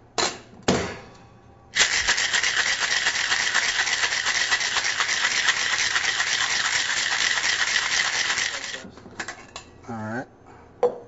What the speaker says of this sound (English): Now we will shake it.